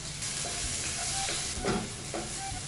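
Garlic and small chili peppers stir-fried in a hot wok: a steady close sizzle with bursts of scraping and tossing, no voices.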